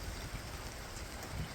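Steady rain falling outside a home gym during a rainy day, an even hiss of drops heard from indoors with no talk.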